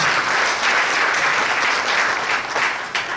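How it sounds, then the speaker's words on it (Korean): A church assembly gathering applauds a pastor being introduced, a full, continuous wash of hand clapping from a sizable audience that runs evenly throughout, with no voices over it. "박수 한번 부탁드립니다."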